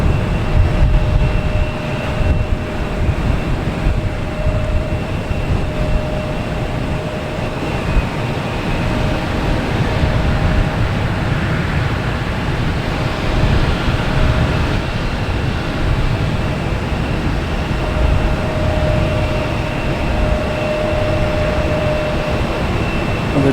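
A JetBlue Airbus A321 arriving at Boston Logan Airport from Las Vegas, its loud, steady jet roar filling the air throughout without a break.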